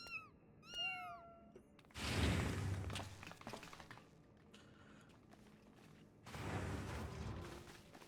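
A cat meowing in Final Fantasy XIV: two short, rising, high meows near the start, then a pair of loud, noisy whooshing bursts with some clinks and thuds between them. No one speaks.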